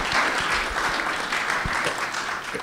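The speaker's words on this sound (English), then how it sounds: "let's applaud them" An audience at a political talk breaks into steady applause, a dense wash of many hands clapping at moderate level, continuous for the whole moment with no voices.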